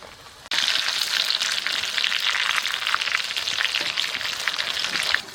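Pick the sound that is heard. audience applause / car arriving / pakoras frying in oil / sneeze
pakoras frying in oil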